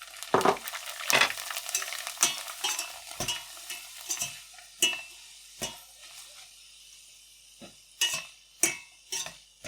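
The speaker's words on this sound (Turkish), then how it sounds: "Hatta ben bir tane daha böyle kızartmak istiyorum." Sliced Syrian magic potato chips are stirred around in hot frying oil, giving a steady sizzle broken by sharp, close clinks and scrapes of a utensil against the pan at irregular intervals.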